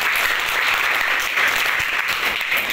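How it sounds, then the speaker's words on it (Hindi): An audience of students and teachers in a school gathering claps steadily and loudly in dense, sustained applause with no pauses. "बजाओ तालियां सर के लिए"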